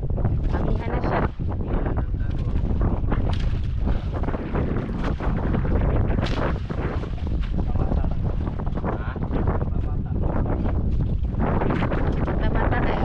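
Strong Amihan northeast monsoon wind buffets the microphone out at sea, a loud continuous roaring rush with gusting bursts, joined by the sounds of a boat on rough water.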